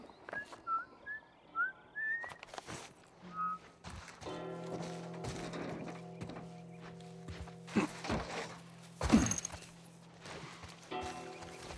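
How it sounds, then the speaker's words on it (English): A person whistles in the video game The Last of Us Part 1, giving a short run of light whistled notes followed by footsteps, a sustained hum and scattered thuds. "I'm whistling."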